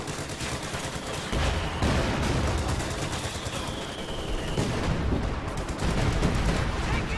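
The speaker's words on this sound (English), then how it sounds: "brutal artillery strike there" Artillery strike in a World War II strategy video game: dense rumbling explosions and crackling gunfire rolling continuously, loud and close, with a brief whistling tone partway through and no talking.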